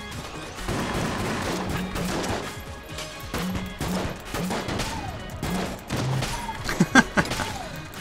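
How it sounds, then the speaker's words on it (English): Chaotic firefight in Enter the Gungeon, with a barrel blowing up amid a dense run of overlapping gunshots, thuds and crashes, loud and busy throughout, with a sharper burst late on. "I think the cursed one there blew up the barrel up here"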